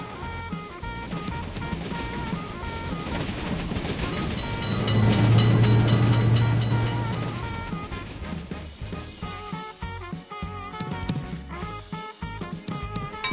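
In a railroad crossing simulator game, a train passes the crossing with a rising rumble and a brief low horn blast midway, while crossing-signal bell tones ring in the background and game sounds clatter near the end.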